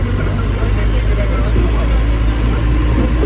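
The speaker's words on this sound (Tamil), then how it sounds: "ஃபாரஸ்ட் வண்டி போயிட்டுருக்கு பாருங்க, ரோடே இல்லாத இடத்துல" A forest department vehicle drives off-road in Mudumalai Tiger Reserve, Tamil Nadu, its engine giving a steady, loud low rumble throughout, with a voice speaking over it.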